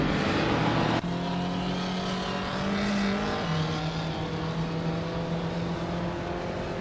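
Racing car engines from a video game with a 1979 Puma GTE in the field, a steady loud engine drone with rising and falling pitch as the cars accelerate and hold speed, continuous throughout.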